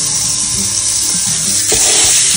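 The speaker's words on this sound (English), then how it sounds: "Rinse it out 3 times until water runs clear." Running water pours and splashes steadily as brown sushi rice is rinsed in a pot, a close, continuous wash of tap water with a brief louder surge near the end.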